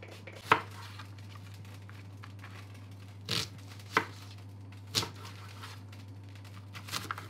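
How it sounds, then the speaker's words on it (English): A knife strikes a cutting board in a handful of sharp, irregular chops through small onions and mushrooms, with quiet pauses between them and a faint steady hum behind. "just going to chop up the onions and the mushrooms"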